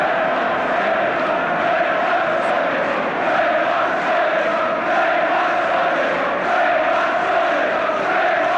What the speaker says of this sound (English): While the Villa crowd are shouting